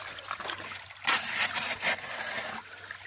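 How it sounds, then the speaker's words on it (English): Water rushes and splashes through a gold prospecting sluice box outdoors in West Virginia; a louder surge of flow in the middle sits between quieter trickling, with no talk. "And then what I've been doing is running it through this here sluice box."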